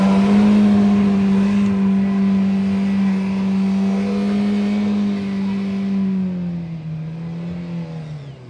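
Mahindra Scorpio engine revs steadily and loudly up close as the SUV pulls free of a muddy off-road leopard trail, the strained drone easing slightly near the end.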